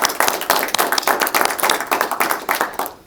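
Close, brisk clapping from a small group at a road-safety campaign kick-off fills the moment, sharp and continuous before fading out at the end.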